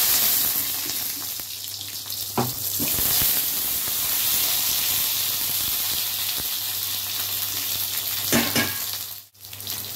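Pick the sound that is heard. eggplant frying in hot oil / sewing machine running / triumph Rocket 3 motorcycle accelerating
eggplant frying in hot oil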